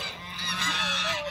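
Geese honking in a brief, loud burst of overlapping calls close by.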